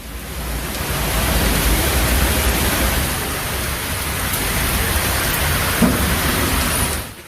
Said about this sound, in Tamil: கனமழை வெளுத்து வாங்கியது